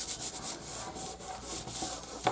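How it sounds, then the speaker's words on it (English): Fingers rub firmly over glued paper card pieces for an Easter card, producing a rhythmic, close, dry brushing friction in repeated strokes, ending with a sharper tap. "I'm going to flip it over and just give everything a really good rub"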